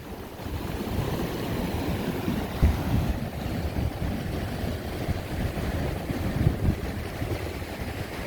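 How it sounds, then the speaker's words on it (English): Surf rolls steadily onto the Oregon coast, a broad continuous wash of breaking waves heard up close, with gusty wind buffeting the microphone throughout. "Gotta be a little careful with the waves"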